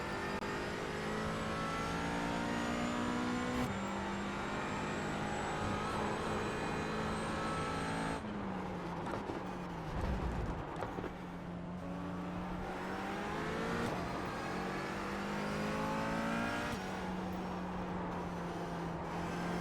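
A McLaren 570S GT4 race car in the iRacing simulator screams at high revs, rising through gears with sharp upshifts and downshifts into corners, loud and continuous with no talk.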